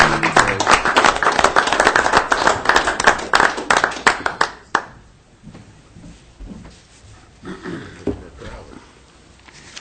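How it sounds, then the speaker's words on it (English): A small crowd at a city council meeting claps in a brisk round of applause that fades after about five seconds, followed by scattered claps and light room noise. "now let's really give these guys a round of applause."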